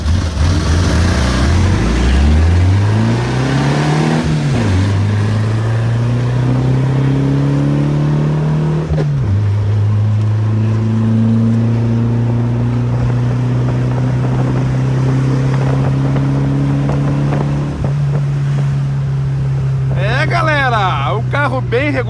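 A Volkswagen Variant 1600 engine revs up strongly and then holds a steady, loud drone close by, with pitch rising and settling over several seconds. People talk underneath it.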